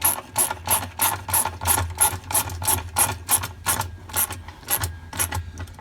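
A hand ratchet threads a 7/16 bolt back in on a Kenmore washer clutch, giving a fast, even series of close, crisp clicks throughout.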